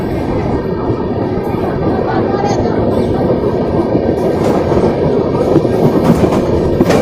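The Swaraj Express passenger train rumbles steadily along the rails with a continuous loud roar and faint rhythmic clatter of wheels, heard from close by throughout.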